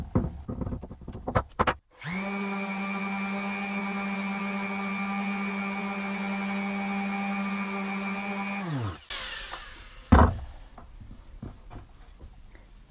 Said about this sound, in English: so let's set the clamps off and sand it up